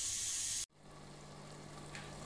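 Tomatoes frying in oil for a tomato pickle: a loud steady sizzle cuts off abruptly, then a quieter continuous bubbling hiss carries on alone.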